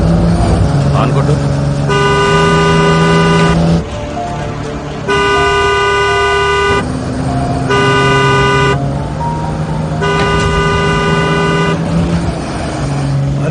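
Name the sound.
car horn honking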